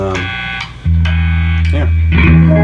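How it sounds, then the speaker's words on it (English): An electric guitar plays clean, dry chords and sustained notes through a 1974 Fender Twin amp with no reverb, ringing loud and close with a few distinct strums. "The reverb tank is not hooked up yet, so this is just a dry signal."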